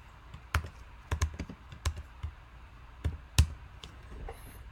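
Typing on a computer keyboard: a series of light, sharp key clicks in uneven bursts, close and fairly quiet against a faint background, with no talk.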